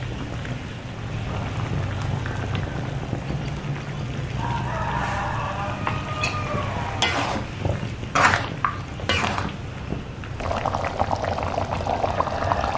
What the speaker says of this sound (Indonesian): Nah, ini kita rebus sampai matang.